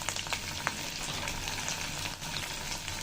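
Spice paste for mustard hilsa curry fries steadily in hot oil, a dense, even sizzle with faint crackles and occasional stirring scrapes, close and continuous with no talk.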